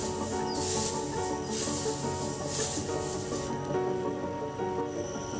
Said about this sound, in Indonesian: Langkah pertama adalah kita mengaduk antara sekam mentah dengan kokopit sehingga menjadi satu